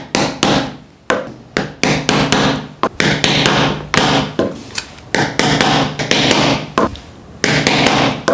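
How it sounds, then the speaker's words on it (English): Repeated sharp hammer blows on wood and metal, irregular and close, about a dozen strikes with short pauses between them. "So I'll just hammer into it."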